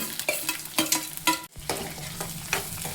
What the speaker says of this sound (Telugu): ఇప్పుడు ఉల్లిపాయలు కూడా మంచిగా ఫ్రై అయినాయి కదా